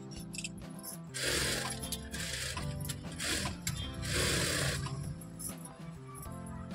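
A sewing machine stitches a blouse's lining to the main fabric, its steady mechanical whirr and rapid needle clatter running close and continuous, swelling in several louder bursts throughout.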